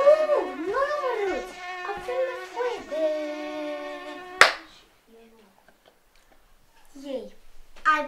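A mosquito whines close by outdoors at a campsite, its wavering buzz rising and falling for several seconds before a sharp slap-like snap. Near-silence follows, then a short whine returns.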